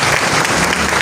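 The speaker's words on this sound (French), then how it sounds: "Je vous demanderai d'applaudir avec élégance, avec chaleur, les membres de la direction" Loud, dense applause from a graduation audience at an art school ceremony, steady clapping filling the whole moment without a break.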